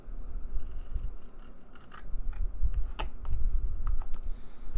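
Scissors cut out a paper template for a 9-inch A-frame. Irregular, close snips and crisp paper clicks come one after another over a low background rumble, with no speech.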